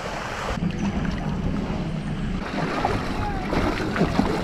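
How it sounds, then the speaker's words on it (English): Water rushes steadily over the edge of a cruise ship pool, a constant broadband wash close to the microphone with some wind noise mixed in. "Accompanied by the constant sound of water rushing over the infinite,"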